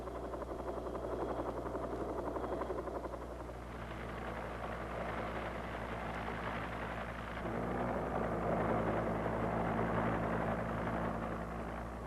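An AH-1G Cobra armed helicopter runs in a steady, dense drone of rotor and engine noise, fairly constant and droning throughout with a slight swell near the end, no voices.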